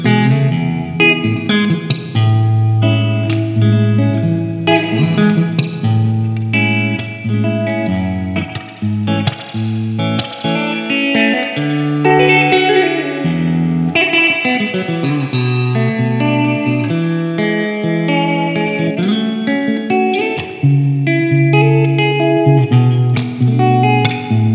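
Guitar played through a Strymon Blue Sky reverb pedal and a Fuhrmann spring reverb pedal, producing continuous loud chords and melodic notes with a lush, washing reverb tail and no talk.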